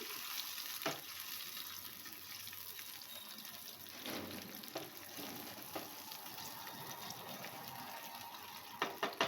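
Tomato and green chili paste sautéing in a pan for jackfruit kofta curry, a steady soft sizzle with occasional stirring scrapes and a few sharper clinks near the end.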